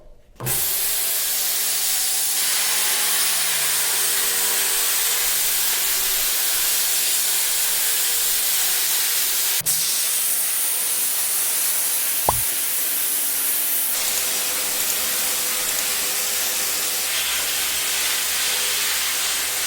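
A Hypertherm plasma cutter slicing through a 1000-gallon steel tank being cut for a smoker firebox, giving a loud, steady, close roaring hiss that holds for nearly twenty seconds with small shifts in tone and no speech.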